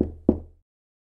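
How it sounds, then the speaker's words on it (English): Two sharp knocks on a door, close and distinct, the second a moment after the first, then silence, used as a storytelling sound effect. "Soon Little Red Riding Hood came and knocked on the door."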